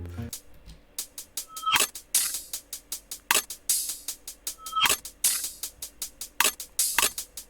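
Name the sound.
reversed percussion sample in FL Studio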